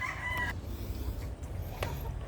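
Chickens in a backyard breeding pen cluck and crow faintly at a distance, with a short rooster call at the start over low rustling background noise.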